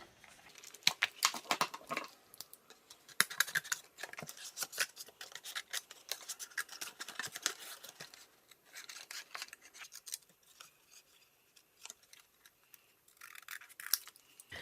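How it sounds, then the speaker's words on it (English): Scissors snip and slice through a paper rectangle in repeated close, crisp cuts with brief rustling pauses, busiest early on and quieter toward the end. "I'm just going to use scissors. So I'm going to poke it through and cut this rectangle out."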